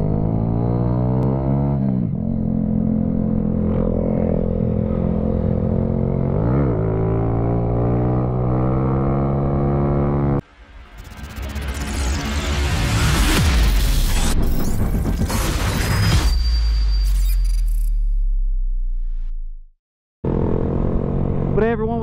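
A motorcycle on a road ride roars loud and close, its engine note rising and falling with throttle changes, then a stretch of heavy wind rush before the sound cuts out briefly.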